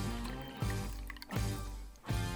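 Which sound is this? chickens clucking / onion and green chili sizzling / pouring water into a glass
pouring water into a glass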